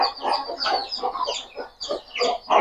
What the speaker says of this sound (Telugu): ఈ పెట్టలు ఎన్ని ఉన్నాయి మొత్తం మీ దగ్గర